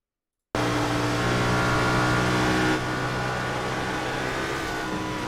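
Stock race cars at Dover roar past in a loud, steady engine drone that drops slightly in level midway, alone without talk.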